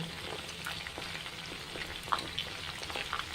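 Chicken 65 pieces deep frying in hot oil, a dense steady sizzle with scattered crackles and pops, close and continuous.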